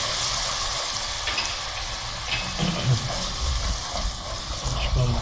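Spice masala of red chili, salt and turmeric frying in oil before the tomato paste goes in, a continuous loud sizzle with scraping stirring strokes and occasional clinks, close and busy throughout.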